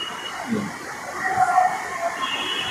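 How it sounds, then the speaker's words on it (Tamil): A Kochi Metro train is heard at a station: a steady rumbling, rushing sound with rising and falling swells near the middle. The source sounds fairly close and there is no talking. "இதுதான் நம்ம கொச்சி மெட்ரோ"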